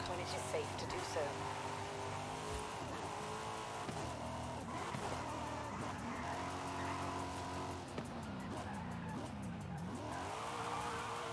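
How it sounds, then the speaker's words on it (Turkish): A car drifting in Forza Horizon 5: the engine revs steadily with its pitch sweeping up and down as the car slides, and squealing tires run continuously underneath. "Şöyle biraz daha drift atsak."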